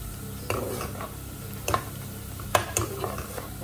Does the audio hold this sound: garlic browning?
yes